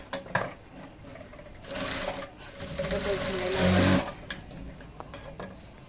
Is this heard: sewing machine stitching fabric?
yes